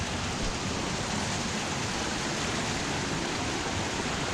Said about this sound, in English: you can see this little river down here